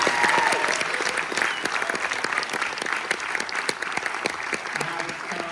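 Audience at a London film premiere Q&A for a science-fiction series applauding steadily, a sustained wash of many hands clapping, with faint voices in the background.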